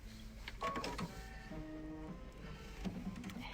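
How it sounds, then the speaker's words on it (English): A sewing machine runs a straight stitch across the bottom of a fabric face mask, giving a close, continuous mechanical whirring hum with small clicks and no talking. "we are going to stitch a straight stitch all the way across the bottom"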